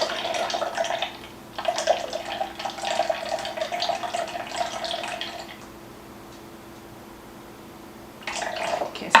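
Pineapple juice and water pour into a pan for sweet and sour sauce, a close, steady liquid stream running in two bursts separated by a quiet pause, with a short final splash.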